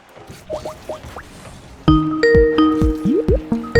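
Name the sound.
Skype incoming call ringtone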